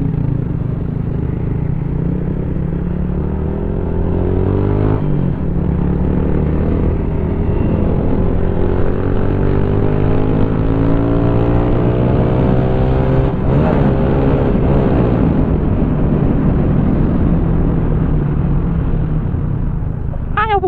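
Engines rev and roar continuously, with rising and falling pitch sweeps as several motorbikes accelerate away from a stoplight nearby, loud and steady throughout.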